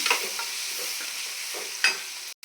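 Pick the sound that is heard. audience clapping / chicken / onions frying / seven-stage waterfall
onions frying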